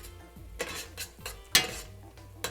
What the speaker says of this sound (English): Go ahead and mix this up and make sure that your guava jam or guava jelly here gets nice and liquidy